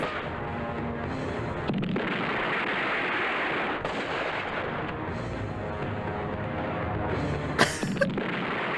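Gunfire and explosions from a Bollywood action film rumble in a continuous, dense barrage of blasts under a thick wash of noise, with a sharper bang standing out near the end.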